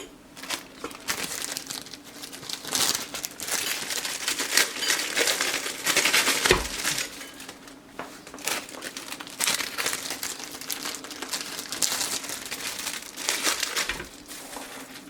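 Beeswax packed by hand into a filter bag set on a crock pot, giving a run of close crinkling, crunching and rustling bursts with short pauses and no talk.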